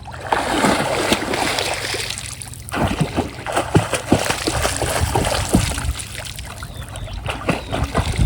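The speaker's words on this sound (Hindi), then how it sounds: "मुझे तैरना आता तो वही तैर के आपको दिखाता हूँ।" A person swims in hotel pool water, with close splashes and sloshing strokes breaking the surface in an uneven rhythm, while a steady low hum runs underneath.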